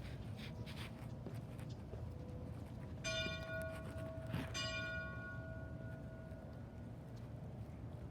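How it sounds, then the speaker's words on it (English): A church bell strikes twice, its ringing tone lingering and fading at a distance over steady background noise. "And bells ringing."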